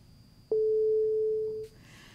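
A failing phone call gives one steady, fairly loud electronic tone that lasts about a second, followed by a faint click and line hiss.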